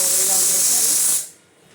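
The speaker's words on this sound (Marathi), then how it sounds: "इथे भाताचा कुकर लावून दिला." A pressure cooker cooking rice releases a loud, steady steam hiss for over a second, then cuts off abruptly, leaving only quiet background.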